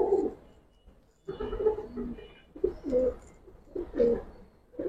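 Giribaz pigeons coo up close in short repeated bursts, about four soft, throaty phrases separated by brief pauses, with no talking.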